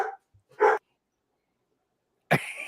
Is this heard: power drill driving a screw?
no